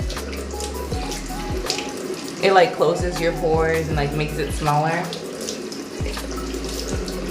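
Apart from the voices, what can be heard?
tap water running while wetting the face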